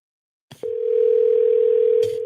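Phone call tone while calling a voicemail line: a click, then a single steady, clear electronic tone that holds for well over a second before ending in another click.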